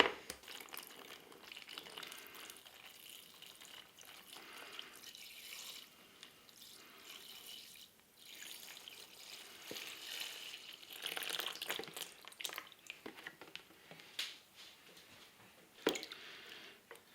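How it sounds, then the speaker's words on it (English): Laptop cooling fans from an ASUS Scar being rinsed with deionized distilled water and alcohol, giving soft close trickling, dripping and squishing liquid sounds at low level with small clicks, alone without talk. "After I wash out the dirt and the dust, immediately I rewash the both cooling fans using pure alcohol"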